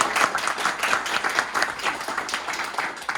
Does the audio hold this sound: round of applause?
yes